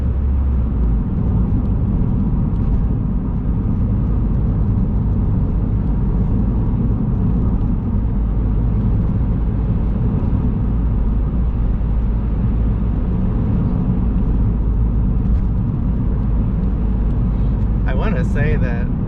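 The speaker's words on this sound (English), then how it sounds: "These are the kinds of roads you want to drive the smart car like a Formula One race car" A Smart car driving winding back roads south from Seabeck in Kitsap County, Washington, with a steady, loud engine drone and low road rumble filling the whole stretch without a break.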